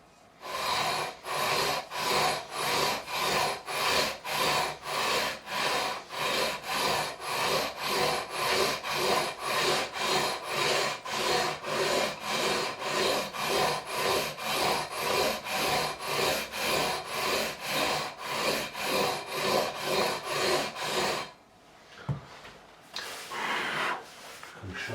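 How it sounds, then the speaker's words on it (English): Rhythmic back-and-forth sanding strokes, dozens of them in a steady even pattern, as 240 grit abrasive levels the frets on a 1998 made-in-Japan Ibanez RG505 guitar neck, close and continuous before stopping near the end. "I'm going to be going across with the 240 grit because we are re-levelling."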